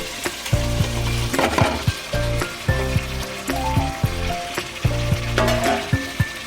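Egg and paneer fry in a spiced potato masala with a loud, close sizzle, broken by regular stirring strokes and light clinks of a utensil against the pan.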